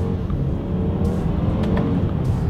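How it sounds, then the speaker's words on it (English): A 2020 BMW X3 accelerating hard down a straightaway using its paddle shifters, a steady loud engine drone heard from inside the cabin with a few brief upward shift surges, no talking. "Let's do a quick little acceleration here."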